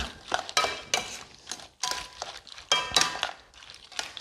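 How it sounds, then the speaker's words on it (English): A utensil scrapes and clinks against a pan in irregular strokes as a deglazed pan sauce is stirred with thyme for shrimp scampi, with faint sizzling between the strokes and no talking. "we'll stir all that in with the thyme"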